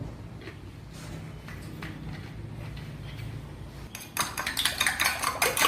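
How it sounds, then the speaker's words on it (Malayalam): A utensil stirs milk into a chicken nugget mixture, first a quiet muffled churning, then brisk close clinking and scraping against the bowl in rapid strokes near the end. "പാലൊഴിച്ച് നന്നായിട്ട് അത് ഇളക്കാം"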